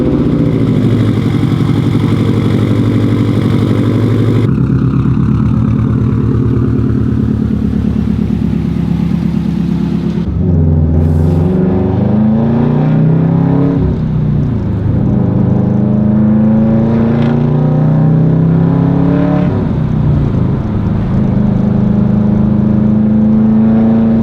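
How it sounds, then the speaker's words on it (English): Deep burbling rumble from a Subaru WRX STi fitted with a Tomei exhaust, steady and loud throughout, with the note shifting as the engine is blipped partway through. "enjoy the Subaru rumble coming from the Tomei exhaust"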